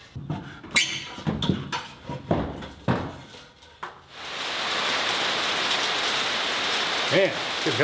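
After several sharp knocks and thuds, a hailstorm outside sets in as a dense, loud, steady hiss of hailstones pelting surfaces, continuing unbroken to the end.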